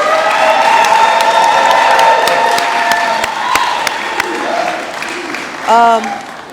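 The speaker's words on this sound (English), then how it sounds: "I really want us to give Her Excellency a Philadelphia round of applause" A crowd welcomes the visiting President of Namibia in Philadelphia with applause mixed with sustained cheering and whoops. Scattered sharp claps sound under the loud voices, and a short rising shout comes near the end.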